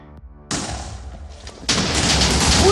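A huge missile explosion in the Minecraft video game bursts out suddenly and loudly, then rolls into a second, heavier blast that becomes a sustained roaring rumble of crackling detonations.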